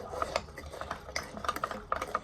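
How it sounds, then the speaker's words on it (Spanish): A spoon stirs yogurt cake batter in a bowl at home, with soft wet churning and repeated light clinks against the side, close and fairly quiet. "Entonces lo vamos a empezar a mezclar."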